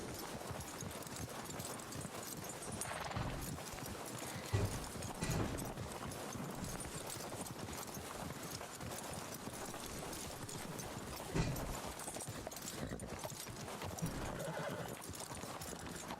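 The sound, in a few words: horse hooves clip-clop in video game RedM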